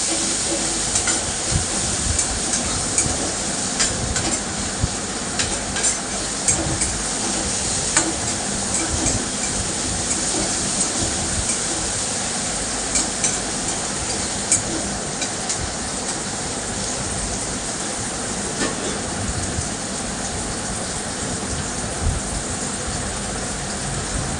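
Onions or seasoning sautéing in a pan before drumstick leaves go in, a dense continuous sizzle and hiss with scattered scraping stirs throughout, fairly close, with no talking.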